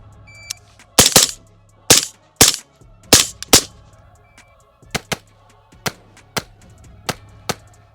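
Rifle gunfire on a practical shooting course: about a dozen sharp, loud shots, a tight cluster of rapid pairs early on, then single evenly spaced shots toward the end.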